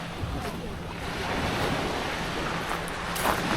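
Ocean surf rolls onto the beach at Jebudo Island, South Korea, a steady broadband wash of breaking waves with wind noise, continuous and fairly close throughout.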